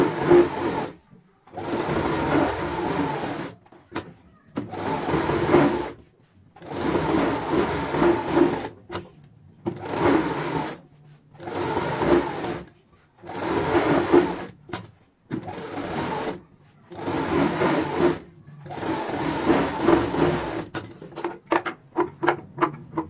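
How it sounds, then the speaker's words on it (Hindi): A sewing machine stitching around the sides of a cushion cover, running in repeated bursts of rapid whirring a few seconds long, separated by short pauses, close and clear. "इसी के ऊपर हम यहाँ से सिलाई शुरू करेंगे और इस तरीके से चारों साइड में लगा लेंगे"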